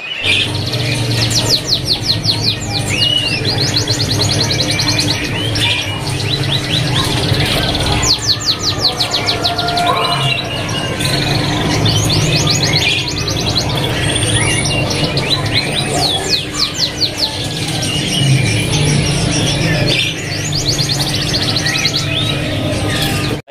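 A siskin sings continuously in rapid twittering trills and buzzy phrases, loud and close, with other birds chirping in the background at a bird market.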